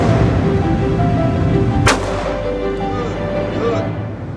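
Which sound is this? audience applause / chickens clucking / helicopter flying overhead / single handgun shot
single handgun shot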